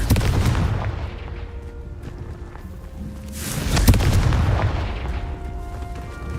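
The Confringo fire spell in Hogwarts Legacy bursts into heavy booming explosions, with rumbling blasts rolling over a dense game soundscape and a stronger hit midway.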